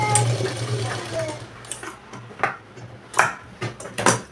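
A sewing machine stitches the lining into a blouse in short separate bursts of rapid clatter, close and moderately loud, following someone speaking Marathi.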